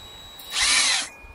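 A power drill whines briefly for about half a second at high speed, driving screws into wood, close by, then stops, with a faint background hum.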